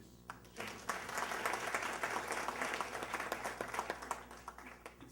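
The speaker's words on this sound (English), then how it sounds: "I think a round of applause to this gentleman." An audience breaks into applause at a question-and-answer session, a dense stream of many hands clapping that rises quickly and holds steady for several seconds, fairly distant and soft.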